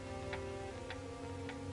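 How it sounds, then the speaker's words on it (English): A clock ticks slowly and quietly in a 1944 mystery film, three or four soft, evenly spaced ticks over a low steady hum of background music. "The ticking of the clock,"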